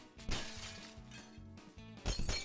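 Glass shatters in the video game Happy Wheels, a series of loud crashing smashes with bright clinking debris over a steady game music loop, with several sharp impacts spaced across the moment.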